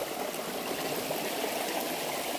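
Steady, full rushing of a waterfall in Mafra, Santa Catarina, a continuous hiss and roar with no pauses.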